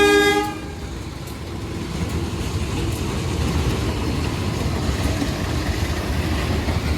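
Two diesel locomotives double-heading a passenger train, one of them reportedly dead, rumble past in a steady, loud drone after a brief horn toot at the start, with no talk.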